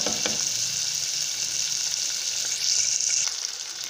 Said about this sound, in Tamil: நம்ம சின்ன வெங்காயம் உளிச்சு வச்சுருக்கோம் இல்லையா, அதை வந்துட்டு இதுக்குள்ளே போடணும்